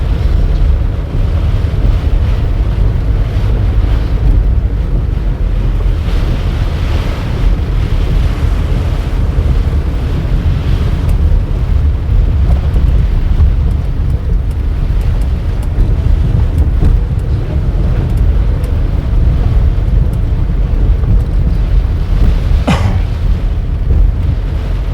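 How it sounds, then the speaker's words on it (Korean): Strong wind buffets the microphone on Ulleungdo island in the rainy season, with rain hiss underneath: a loud, continuous broadband roar with no speech. "바람도 제법 불고 비도 제법 많이 옵니다."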